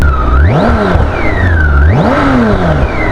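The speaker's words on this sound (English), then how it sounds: "This is an inline 6-cylinder engine. You can see this instant torque, and it sounds mad." A BMW K1600 GTL motorcycle's inline six-cylinder engine revs hard twice, pitch sweeping up and falling back each time, with a steady throaty drone underneath and no talking.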